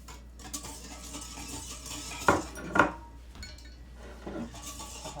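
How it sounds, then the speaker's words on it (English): A whisk knocks and scrapes against a bowl as the last of the sugar goes into a room-temperature beignet batter: two sharp clinks stand out over soft, low mixing, then a fainter tap near the end. "So I'm very gently gonna whisk in the remains of the sugar"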